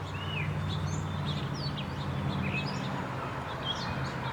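Birds chirp around the front of a garden property, with scattered short tweets and calls at moderate distance layered over a steady low rumble of background noise.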